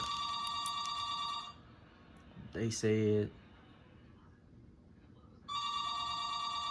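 A telephone rings in two loud bursts of electronic trills, one at the start and one near the end, with a brief spoken phrase in the quiet gap between them.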